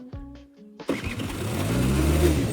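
A vehicle engine cranks briefly and catches, then settles into a loud, close, rising idle with some revving, after a moment of low rumbling and humming beforehand.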